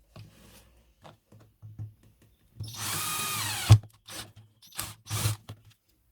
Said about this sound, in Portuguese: Na primeira tampinha, a gente vai fazer um furo bem no meio.